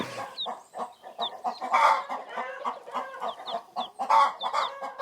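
Several Asturian Pita Pinta hens, black-speckled variety, cluck in short repeated bursts with occasional higher squawks, fairly close and continuous over the whole stretch with no voices.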